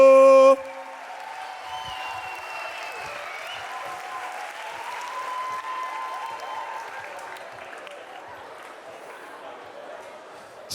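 Audience at a dance camp showcase applauding and cheering in a steady wash of clapping with scattered whoops, sustained for about ten seconds after a brief voice at the start.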